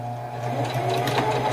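A sewing machine runs a straight stitch through underquilt fabric, a continuous close mechanical whir with a fast rattling pulse and no talk over it.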